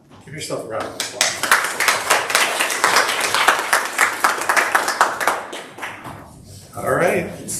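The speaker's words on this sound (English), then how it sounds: "Give yourself a round of applause." An audience at a Sunday service gives a round of applause: dense, lively clapping that swells and fades over several seconds, close and fairly loud. A brief voice comes in near the end.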